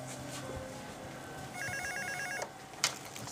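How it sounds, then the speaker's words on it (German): Telephone ringing in an office, a clear electronic trill repeating in short bursts over quiet room tone. "Ach, Telefon einen Moment."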